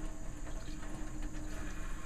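Water running steadily from a sink tap as hands are wetted for handwashing, a constant close hiss with no talking.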